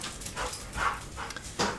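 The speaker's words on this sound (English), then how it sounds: "Yeah, my doggy is being loud." A golden retriever puppy gives a few short, faint barks and whimpering yips, spaced apart at some distance, with no voices.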